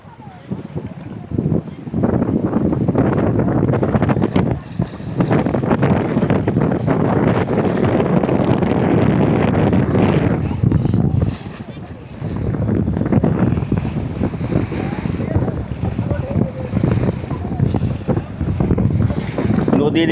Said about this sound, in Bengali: এই যে নদীর যে কলকল শব্দ এবং বাতাসের যে ধ্বনি